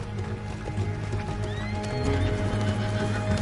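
Horses in Red Dead Redemption 2 whinny and neigh while hooves clip-clop steadily, mixed into a busy in-game soundscape with rumbling background noise and no talk over it.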